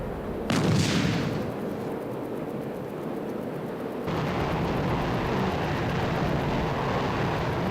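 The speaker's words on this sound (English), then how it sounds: "Get away from some of this AAA." Anti-aircraft artillery fire in the Strike Fighters 2: Vietnam flight game, with a sharp burst near the start over a constant jet engine roar that steps louder midway, heard as a rumbling wash of in-game noise without talk.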